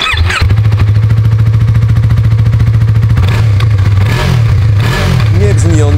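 A Yamaha R3 motorcycle exhaust revving, with a loud, close, steady buzzing drone of the engine held high, then a few quick throttle blips and rises toward the end.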